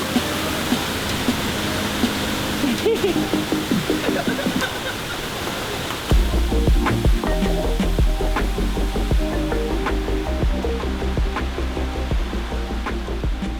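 Water from a waterfall rushes steadily as a broad, continuous roar with no speech, and it grows heavier and deeper about halfway through, as if heard from closer to the falling water.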